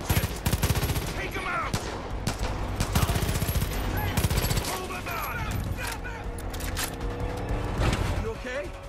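Rapid gunfire bursts crackle through a Far Cry 5 firefight, dense and loud throughout amid engine and mechanical noise, with voices talking over the shooting.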